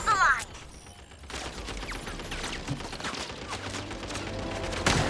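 Rapid gunfire from a video-game battle, with sustained bursts of shots and explosive blasts over a dense, noisy backdrop of combat effects, loud throughout and peaking at the start and end.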